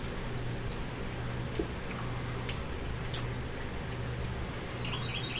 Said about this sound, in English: It's been raining for a few days now.